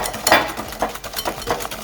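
A hand whisk beats white and brown sugar in a bowl for brownie batter, with quick rhythmic scraping strokes repeating close up.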